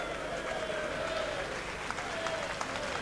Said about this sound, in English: a lot of applause there because Harrison stepped in and made a double